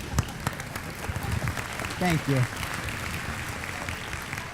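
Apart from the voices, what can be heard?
audience applause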